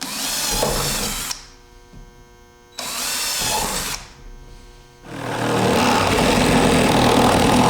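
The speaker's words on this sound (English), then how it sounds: "we'll start by drilling us some starter holes here" A power drill runs in loud, close bursts, drilling starter holes in a barrel, stopping and starting twice before a final long whine.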